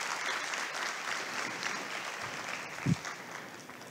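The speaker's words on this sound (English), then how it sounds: "a round of applause for Christo" An audience at a software developer conference applauds the next speaker, a continuous wash of many hands clapping that holds steady and then begins to thin, with a brief low thump near the end.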